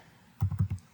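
Four quick keystrokes tap on a computer keyboard while a value is entered into an Excel chart setting, close and crisp, with quiet room tone before and after and no speech.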